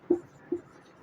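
A marker writing labels on a board: two short scratchy strokes about half a second apart, faint and close, with no one speaking.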